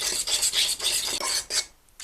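A spoon stirs buttermilk into ranch dressing, making a rhythmic wet scraping and rasping against the bowl in about six quick strokes, close and clear, before stopping.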